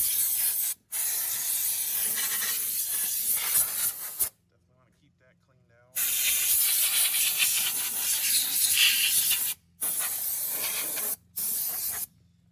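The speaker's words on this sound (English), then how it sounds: "air compressor's charged now" An air compressor serving a Polaris RZR XP4 1000 blows a loud, close, steady hiss of air in several long bursts broken by short pauses, with talk in between.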